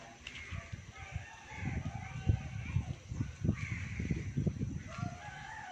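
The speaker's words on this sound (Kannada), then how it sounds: "ನನ್ನ ವಾಯ್ಸ್ಗಿಂತ ನಿಮಗೆ ನನ್ನ ಬ್ಯಾಕ್ಗ್ರೌಂಡ್ ವಾಯ್ಸೇ ಜಾಸ್ತಿ ಕೇಳ್ಬೋದು, ಕೋಳಿಗಳು, ಪಕ್ಷಿಗಳು, ಹಾಗೆಯೇ ಕಾಗೆಗಳು ಎಲ್ಲವೂ" Village crows caw and chickens cluck and crow together with other birds in the background, a busy, moderately distant chorus of repeated calls that carries on throughout.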